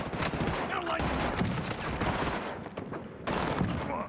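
Gunfire in a shooter video game, with akimbo Sykov pistols in play, comes as dense continuous bursts and rapid shots. The sound is loud and close, with brief dips, and speech is mixed in.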